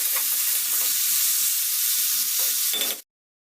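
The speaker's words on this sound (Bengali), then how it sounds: "এবার আমি সিমগুলোকে একটু হালকা করে ভেজে নেব" Cut flat beans frying in oil in a pan over a high-to-medium gas flame, a steady close sizzle with stirring that runs for about three seconds and then stops abruptly.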